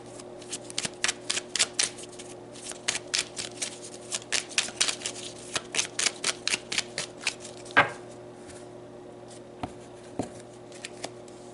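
Oracle cards are shuffled by hand in quick, close papery riffles and flicks, dense bursts of crisp snaps that thin out into a few scattered taps toward the end.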